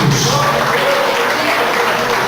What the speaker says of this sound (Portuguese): Batem palmas e dá glória a Jesus